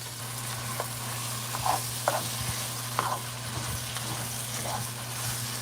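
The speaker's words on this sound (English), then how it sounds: "Just continue to stir it up." Curry lobster for a Jamaican dish sizzles in a pot as it is stirred, a steady frying hiss broken by a few soft scrapes and knocks of the spoon.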